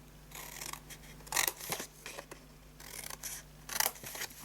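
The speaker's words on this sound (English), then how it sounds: "Cut yourself a tab. Trim that." Paper is cut with scissors to make a tab for a handmade Christmas gift box, giving a series of short, close snips in irregular clusters over a quiet background.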